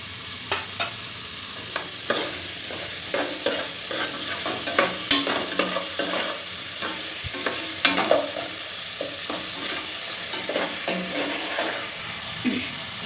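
Onions, salt and curry leaves fry in a pan for an Indian potato, carrot and pea masala curry, sizzling steadily up close while a spoon scrapes and stirs in repeated knocks throughout.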